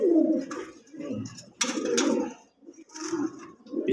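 Pigeons kept in a loft, two of them sick, coo in repeated soft throaty phrases close by, with short pauses between calls and no talk.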